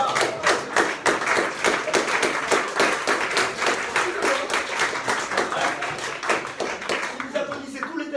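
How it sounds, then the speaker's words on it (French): A theatre audience claps in a lively, rhythmic burst that stays strong for several seconds, with voices talking faintly underneath the applause. "Si vous applaudissez tous les thèmes comme ça, c'est sympa, mais on n'a pas fini."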